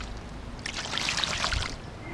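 Water poured over a landed carp on the bank, a brief soft splashing trickle lasting about a second, close and fairly quiet against faint outdoor background.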